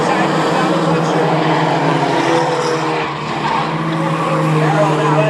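Mighty Trucks race around the Star Speedway oval, a constant roaring wash of engines and tire noise at close range, with a commentator calling the race over it.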